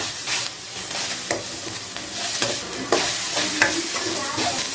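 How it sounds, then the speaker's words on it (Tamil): Sliced onions and ginger-garlic paste sauté in hot oil, sizzling steadily and up close while a spoon stirs and scrapes the pan in repeated strokes, with no talking. "வெங்காயம் பாதி வதங்கினதும் கொஞ்சம் கூட இஞ்சி குண்டாரவை போட்டுட்டு நல்லா வதக்கிடுங்க"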